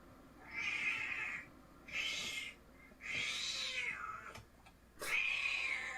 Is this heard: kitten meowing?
yes